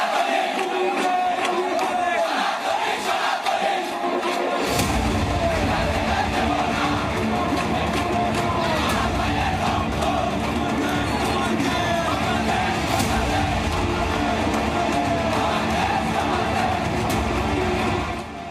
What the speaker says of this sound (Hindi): लाखों हिंदुओं की भीड़